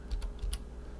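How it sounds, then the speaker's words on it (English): Keys tapped on a computer keyboard at a web browser, a few quick, light clicks in a short burst, close and fairly quiet with no talking. "I'm just going to type in"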